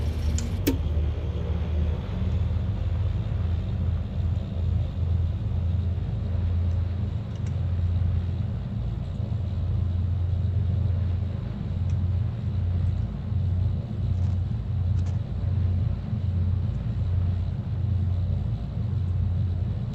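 Twin piston engines of an Aerostar 601P in the X-Plane simulator run at a steady, loud, low drone, held evenly throughout with no talk over it.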